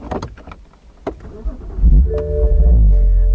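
A 2008 BMW 128i Convertible starts up: a few clicks and a short starter whir, then the engine catches and settles into a loud, close idle.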